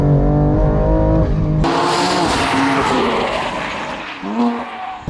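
A turbocharged 700 WHP BMW M2 Competition revs hard in third gear and climbs in pitch as it accelerates, loud and close, with a brief squeal from Toyota R888R tires near the end.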